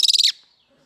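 Birds calling in North Vietnam: a loud, close, rapid buzzing trill of repeated high chirps lasting under half a second, cutting off sharply and fading into quiet.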